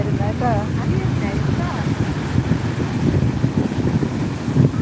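Big waves break and churn on Vettukadu beach under gusty wind rumbling across the microphone, a loud, continuous wash near at hand with faint voices in the background.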